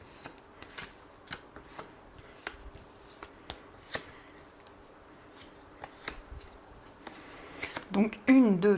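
A deck of tarot cards is shuffled close by in quick, irregular riffles and slaps, a run of crisp papery bursts continuing throughout, with a louder handling noise near the end.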